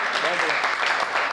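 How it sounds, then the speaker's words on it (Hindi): Live audience at a Hindi poetry gathering bursts into steady, dense clapping for a poet as he is called to the stage, with a few voices mixed into the applause. "दूसरे कवि के लिए जोरदार तालियां"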